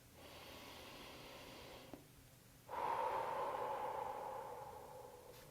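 Slow, easy breathing during a therapeutic yoga session, a long soft exhale followed by a deeper, fuller breath, close and quiet with no talking.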